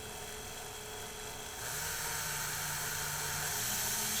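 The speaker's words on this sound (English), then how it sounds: "I like using the drill." A power drill whirs steadily to wind an acoustic guitar string onto its tuning peg, a continuous buzzing motor whine that rises slightly in pitch partway through and carries on alone without talk.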